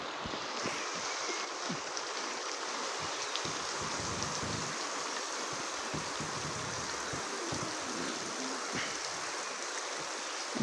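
Water sprays from one-inch sprinkler pipes onto the tin roof of a farm shed, a steady, even hiss and patter like rain that holds unbroken throughout.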